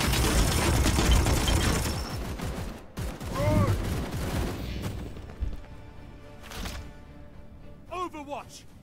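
Gunfire in the video game Warhammer 40k: Chaos Gate - Daemonhunters comes as a loud burst of rapid shots and booms, then a few separate impacts, with clear whooshing effects in between.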